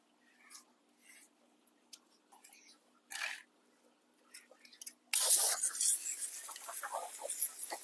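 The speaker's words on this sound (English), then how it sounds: "Spraying the sponges down." Soft scattered taps and shuffles, then a loud steady hiss of water spraying down aquarium filter sponges starts partway through and continues to the end.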